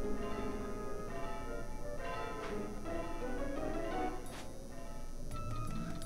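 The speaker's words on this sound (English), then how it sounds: "I'm gonna ring the bell." A church bell rings inside the Final Fantasy IX video game, several sustained tolls standing out over steady in-game background music and ambience at moderate loudness.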